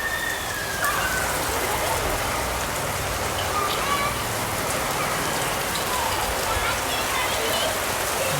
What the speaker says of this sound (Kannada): ಫುಲ್ ಮಳೆ ಬೀಳ್ತಾ ಇದೆ.